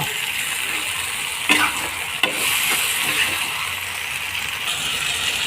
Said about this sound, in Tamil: தக்காளியும் கொத்தமல்லியும் இவங்களை எல்லாரும் நல்லா வதக்கணும்.